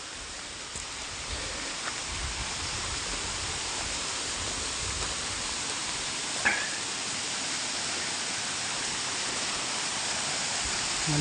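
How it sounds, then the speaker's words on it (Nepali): A waterfall reached after a forest climb, heard as a steady, even rush of falling water throughout, broadband and constant at moderate loudness, with one brief faint click midway and no talk. "झरनासम्म आइपुग्यौँ।"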